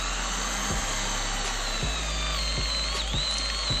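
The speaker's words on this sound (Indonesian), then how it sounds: "Ini kayu meranti, kita coba untuk pengeboran dalam." A power drill bores 10 mm deep into hard meranti wood, its motor whining steadily and close, the pitch dipping slightly as it labours, with faint knocks from the bit.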